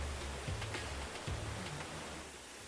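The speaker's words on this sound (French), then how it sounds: "entre la rivière et puis l'orage, on s'entend vraiment plus essayer de dormir" Steady rushing water from a nearby river at night fills the clip, with a couple of dull low thumps of thunder from a storm underneath and no voices.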